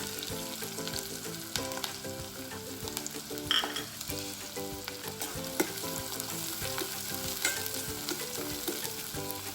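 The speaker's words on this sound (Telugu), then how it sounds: "ఇందాక తరిగి పెట్టుకున్న ఉల్లిపాయ పచ్చిమిర్చి వేయాలి" Chopped onion and green chillies fry in a pan for a home-style chicken curry, with a steady sizzle under music and sharp clicks of stirring scattered throughout.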